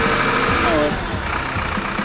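A semi truck with trailer backing up, its diesel engine droning loudly and continuously close by, with faint intermittent beeps over the engine.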